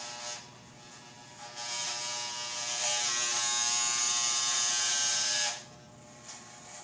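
Electric clippers buzzing close up while shaving a man's head, a loud steady whine that swells in the middle and drops off near the end, no talk.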